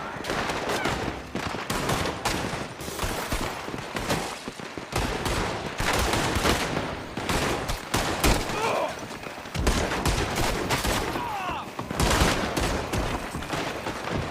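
Dense, sustained gunfire from a Red Dead Redemption 2 shootout mission, rapid bursts and volleys layered loudly and continuously, with shouted voices breaking in between the shots.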